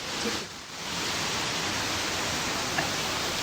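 A waterfall beside a forest walking track in a New Zealand scenic reserve gives a steady, even broadband rush heard from a moderate distance, with no talking.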